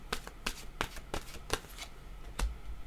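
Tarot cards being shuffled by hand, giving a quick series of crisp, papery riffles and taps in an irregular rhythm, close and quiet.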